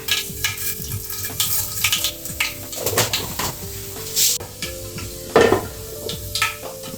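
Cumin, mustard seeds and fenugreek sizzle in hot coconut oil, a steady frying crackle with clinks of a pan and stirring utensil and scattered sharp pops throughout.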